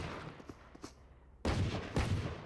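Pistol fire in a Valorant esports match, two loud sharp shots about half a second apart after a quieter stretch of faint game ambience and small clicks.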